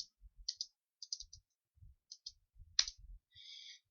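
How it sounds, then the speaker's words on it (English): A computer keyboard spacebar pressed repeatedly during Minecraft play, giving faint, quick clicks and soft thumps in irregular bursts against a quiet background. "If you put it on, like you can hear my spacebar."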